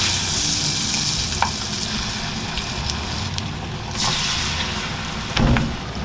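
A ball of rice fries in deep oil, giving a continuous dense sizzle and crackle with occasional louder pops and stirring splashes, close and steady throughout.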